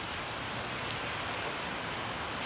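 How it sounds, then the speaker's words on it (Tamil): Heavy rain pours down in Colombo, Sri Lanka, a dense, steady hiss of drops hitting surfaces, loud and unbroken throughout with no voices. "மழை நல்லா பிடிச்சிக்கிச்சிங்க."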